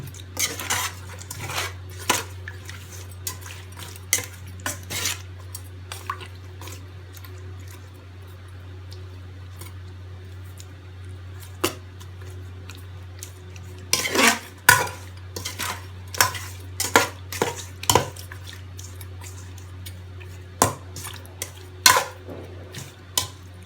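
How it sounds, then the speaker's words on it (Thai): Fish mixture with torn kaffir lime leaves stirred in a pot for a Thai-style steamed fish dish, giving irregular clinks and scrapes of utensil against the pot over a steady low hum, with bursts of quicker clatter. "คนเข้ากันนะพี่น้องคนหันเข้ากันครับ"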